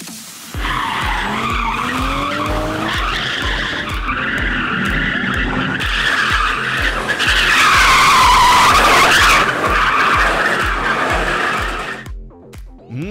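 A car drifts on a track with a professional driver, tires skidding and squealing loudly over a revving engine for about twelve seconds before cutting off abruptly.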